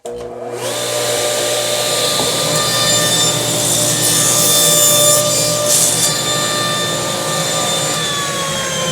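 A CMT orange saw blade rips through a sheet of plywood, a loud close whine that spins up at once and holds steady through the cut, with no talk.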